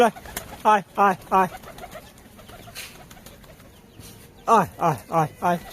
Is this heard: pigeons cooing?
yes